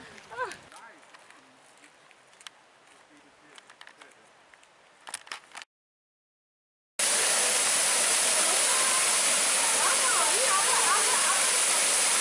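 A waterfall at the En Gedi desert oasis roars as a loud, steady rush of falling water in the second half, after a quieter stretch of faint outdoor sounds with scattered clicks.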